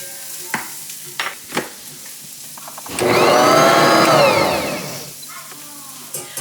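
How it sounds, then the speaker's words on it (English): Electric hand mixer whirring steadily for about two seconds as butter is worked into flour, sugar and baking powder, loud and close, with brief knocks and clatter before and after. "I'm going to add my butter and mix that till it's nice and crumbly"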